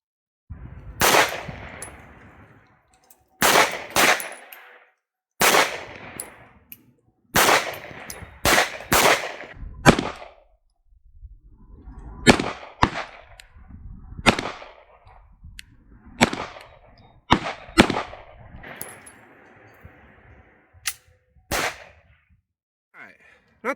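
Pistol rounds fired at a target 25 yards away on an outdoor range, sharp loud cracks spaced a second or two apart, some in quicker pairs, with quiet gaps between them and no talk.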